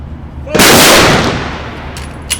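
A rifle volley salute fired at a 9/11 memorial observance by an American Legion honor guard, one loud sharp crack with a long ringing decay outdoors.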